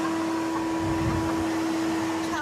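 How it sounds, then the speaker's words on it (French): A very powerful hotel hair dryer runs with a steady, loud, continuous whirring blow and a constant hum, with no talking over it. "on n'a pas amené de sèche-cheveux, mais... Oh, il marche. Et il est super puissant."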